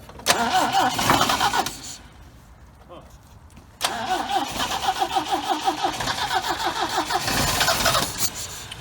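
A 1973 MGB GT engine cranks over repeatedly in two long rhythmic bursts with a pause between, chugging without catching, while people talk nearby.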